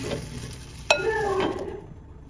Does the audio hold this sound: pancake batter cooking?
yes